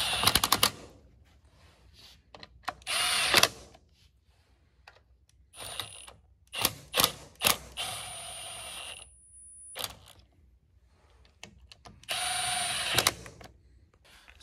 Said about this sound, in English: You can use an impact on this stuff right here.